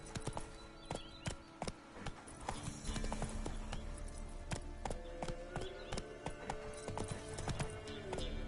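Roach, Geralt's horse in The Witcher video game, gallops with rapid clip-clopping hooves throughout, loud and close, over a steady game music bed with some faint voice.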